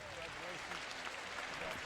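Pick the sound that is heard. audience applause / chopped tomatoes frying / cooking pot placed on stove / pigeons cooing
audience applause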